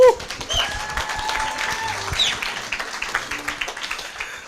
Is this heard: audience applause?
yes